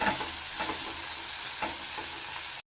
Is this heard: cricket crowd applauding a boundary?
no